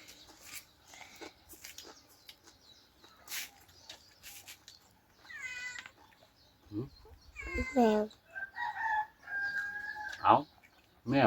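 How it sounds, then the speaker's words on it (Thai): A cat meows several times in short wavering cries, while rooster-like crowing and clucking fowl sounds mix in around it against a quiet outdoor background. "มันเป็นแมว"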